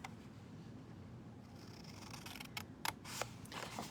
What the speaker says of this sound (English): we're going to cut just up to where those score lines intersect to get a little flap